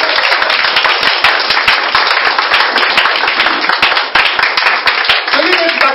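A church congregation claps loudly and continuously to acclaim Jesus, a dense and close wall of hand claps layered with voices throughout.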